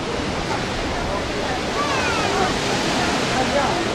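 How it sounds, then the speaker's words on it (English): Ocean waves crash against the shore in San Diego in a steady, close, roaring wash of surf that swells slightly as a wave breaks midway, with no clear pauses. "watch the people come out here and risk getting hit by the waves here"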